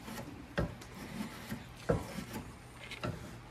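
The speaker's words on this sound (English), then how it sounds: "there's really no substitute for a sharpened draw knife" Sharpened draw knife shaving green wood for an axe handle, heard as a series of separate rasping strokes about a second apart, close and fairly soft, with no talking.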